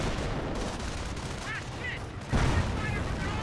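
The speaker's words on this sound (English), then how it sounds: "Does throw a bundle grenade in return. And stun grenades to follow up." Bundle and stun grenade blasts in the game Company of Heroes, with dense battle noise and gunfire-like bursts and a heavier explosion partway through, under constant combat din.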